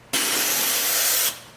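A high-pressure water spray gun cleaning a wall-mounted air conditioner gives one steady, loud, broadband hiss that starts abruptly, holds for about a second, then cuts off.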